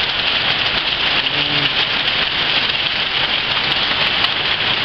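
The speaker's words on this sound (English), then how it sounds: "it's been absolutely torrential rain, thunderstorm, and lightning." Heavy torrential rain pounds down during a thunderstorm on a farm where gutters fill water barrels, a dense, loud, unbroken hiss of drops hitting surfaces, close and steady without any voices.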